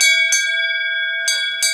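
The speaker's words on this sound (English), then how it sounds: "Right, the bell." A school bell rings during a stage play at a university conservatoire, a steady electric tone held throughout with brief clattery bursts at the start and near the end, loud and close with no voices.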